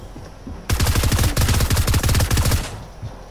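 Rapid submachine gun bursts in a shooter video game, two long loud strings of fast evenly spaced shots separated by a brief gap, close and dominating.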